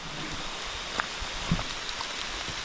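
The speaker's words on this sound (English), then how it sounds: "And the rain gets a little bit harder." Steady rain falling harder in a national forest on a hike, a constant diffuse hiss with a few scattered drip or knock accents, fairly close and even throughout with no talking.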